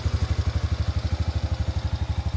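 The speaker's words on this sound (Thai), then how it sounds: "เครื่องยนต์เป็นไงฮะ โอ้โหเสียงนิ่มมากครับ เดินเบานิ่มมาก" A serviced ATV engine idles close by with a smooth, even, rhythmic putter that holds steady throughout.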